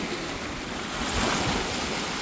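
Lake waves lap at the shore on a spring day, a steady soft wash of water with a slight swell near the middle and no voices.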